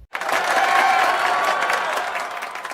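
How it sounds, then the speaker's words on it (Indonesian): An audience breaks into dense, sustained applause, loud and even for a couple of seconds before thinning out slightly at the end. "Beri tepuk tangan untuk kalian semua."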